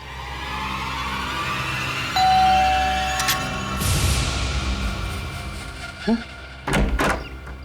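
A hotel room door is opened after a drawn-out electronic chime, with a close, noisy sweep of the door followed by a couple of short knocks and clunks over faint background tone.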